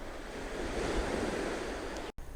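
Waves washing onto a beach on the Matsu Islands, Taiwan, a steady close rush of surf mixed with wind buffeting the microphone, cutting out briefly near the end.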